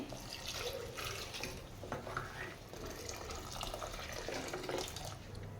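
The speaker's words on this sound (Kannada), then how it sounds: "ಇದಕ್ಕೆ ನೀರು ಹಾಕ್ಕೊಂಡು ಬಿಡ್ತೀನಿ" Water is poured into frying masala for Mandya-style mutton sambar, a soft, steady splashing and gurgling pour that runs on quietly with faint kitchen sounds beneath it.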